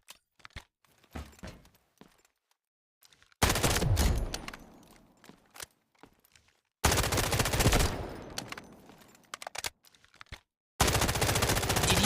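Automatic weapon fire with an attachment in the video game Delta Force comes in three loud, sustained bursts separated by quieter gaps with faint clicks and steps.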